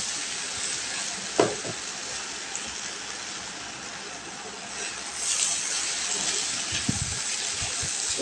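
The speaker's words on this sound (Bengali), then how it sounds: "একটু ভাজা হোক, তারপর আমি পানি দিব।" Spices and rice fry in oil in a pan for restaurant-style bhuna khichuri, giving a steady, close sizzling hiss with occasional stirring knocks and scrapes, louder in the second half.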